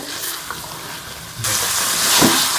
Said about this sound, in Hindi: मैंने इसको जो है वो मसाले के साथ अच्छी तरह से कलेजी को भून लिया है।